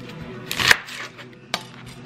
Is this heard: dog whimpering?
no